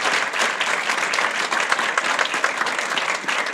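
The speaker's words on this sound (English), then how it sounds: "Please join me, give her a round of applause." An audience at a county hall of fame ceremony breaks into sustained applause, dense and even clapping that fills the room throughout.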